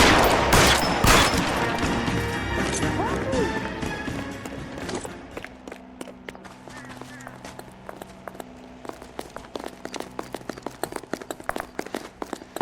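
Gunfire from a shootout in the video game LA Noire: a dense burst of loud, sharp shots opens the scene, then scattered lighter cracks and clicks continue at a steady, uneven rhythm over a low background rumble.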